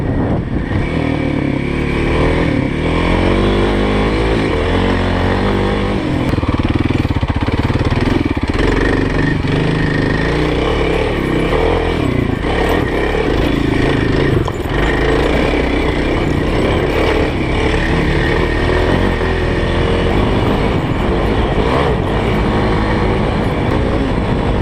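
A Kawasaki KLX 351 dirt bike climbs uphill, its engine loud and close the whole time, revving and labouring unevenly over the rough slope with no talking.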